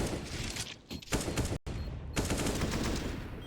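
Rifle gunfire in the video game Counter-Strike on the map Vertigo during a competitive match, dense rapid bursts of loud shots with a brief gap, close and continuous with no talking.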